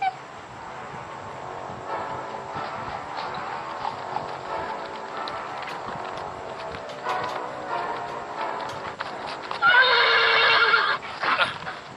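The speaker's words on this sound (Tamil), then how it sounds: "இந்த செடிகள் தடுக்கிறதுனால குதிரைகள் மேற்கொண்டு போக மாட்டேங்குது அரசே" Horses neigh and hooves clip-clop in an animated Tamil story scene, with steady hoofbeats throughout and a loud whinny near the end.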